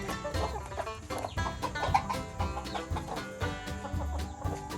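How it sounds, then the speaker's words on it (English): Several chickens cluck close by in a steady, overlapping chorus, with soft rustling underneath and no talking. "Hey chickens, let's see if they want this grass."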